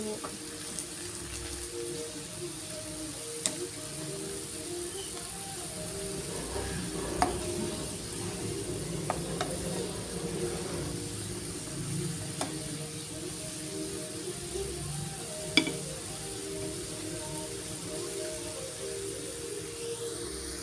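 Chicken adobo with chicken liver and gizzard frying in a pan, a steady close sizzle with occasional sharp pops and crackles, no talking.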